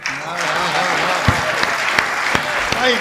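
A crowd in a pandal at a Hindi poetry recital bursts into loud, dense applause that runs steadily for the whole stretch, with a few sharper claps and a voice faintly audible over it.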